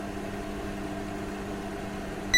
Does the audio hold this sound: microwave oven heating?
yes